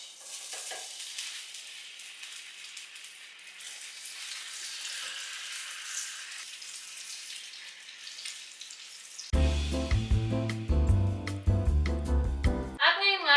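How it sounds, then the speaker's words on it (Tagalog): Ham frying in a little oil in a hot pan, a steady hissing sizzle throughout, joined near the end by louder, busier clatter and tonal sounds close by. "kaya sa aking mainit na kawali, maglagay lang ako ng konting mantika lang para hindi masyadong dumikit ang ating ham"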